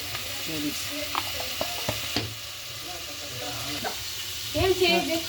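Ginger garlic paste sizzles steadily in a hot pan for a potato curry, a constant close frying hiss with occasional stirring scrapes and a brief louder spatter near the end.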